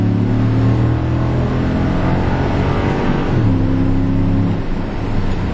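Inside a 2011 Ford F150 Lariat Limited, the engine accelerates hard with a loud, continuous rising roar and a brief dip at a gear shift, no voices over it.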